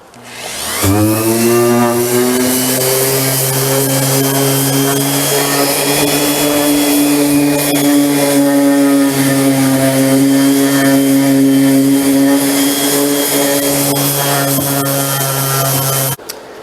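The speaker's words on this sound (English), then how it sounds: "I need to sand that down to the degree I can, which is going to be difficult because I think this wood is actually charred" Charred teak wood from a potter's bench being sanded, a steady droning machine whine with a low hum that runs unbroken and loud, close up, for the whole stretch before cutting off at the end.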